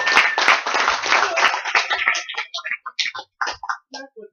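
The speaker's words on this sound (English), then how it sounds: "Round of applause for Saskia Venetoude" Guests at a fundraiser break into a round of clapping that starts dense and loud, then thins out into a few scattered claps before fading away.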